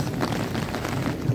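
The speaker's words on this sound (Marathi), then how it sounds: "बऱ्यापैकी धो पाऊस" A steady, close rush of heavy rainfall outdoors in America, continuous and broadband with faint low rumbles underneath and no voices.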